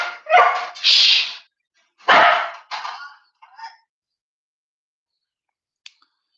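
Several sharp dog barks close by in quick succession, then a couple of softer yips, followed by near silence and a faint click.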